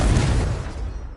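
A loud, deep boom from the Confringo explosive spell in Hogwarts Legacy, a single heavy blast that rumbles and decays over about a second.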